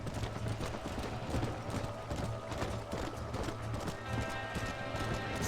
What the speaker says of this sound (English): Stallion horse.